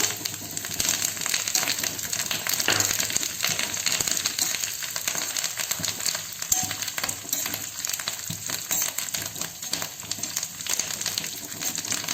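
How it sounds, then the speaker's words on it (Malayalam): Dried red chillies and curry leaves fry with coconut in hot oil for a Kerala lemon curry, an Onam dish. A continuous close crackling sizzle with busy popping and spattering runs throughout, with no voices. "അതിലേക്ക് നമ്മൾക്ക് ഒരു 3 ഉണക്കമുളകും കുറച്ച് കരിവേപ്പിലയും കൂടി ചേർത്ത് കൊടുക്കാം"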